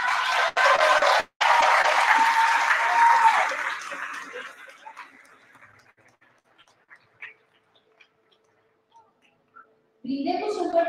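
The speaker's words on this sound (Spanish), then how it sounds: "Brindemos un fuerte aplauso por el cuadro de honor de tercera de medio científico humanista." Audience applause at a 2023 school awards ceremony, loud and dense for about four seconds, then thinning to scattered claps and near silence before a voice cuts in at the very end.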